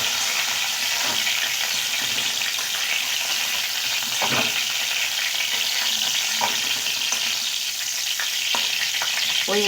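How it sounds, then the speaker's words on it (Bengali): Pointed gourd (potol) pieces frying in hot oil in a pan, a steady, dense sizzle and crackle heard close up with occasional stirring clinks, no voices. "ওইদিকে পটল ভাজা হতে থাকে"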